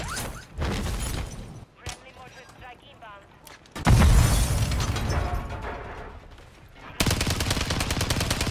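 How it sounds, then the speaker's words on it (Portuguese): Bursts of rapid gunfire in a Call of Duty Warzone Rebirth Island quads match crackle loudly through most of the stretch, with shouted Portuguese talk layered over the shooting. "Os gajos estão aos tiros com a prisão"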